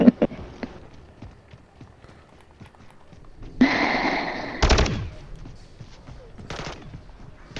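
Gunfire in the Call of Duty Zombies video game: a few bursts of rapid automatic fire, loud and close, break through low background game noise, with people talking around them.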